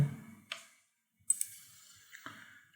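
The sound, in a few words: computer mouse clicking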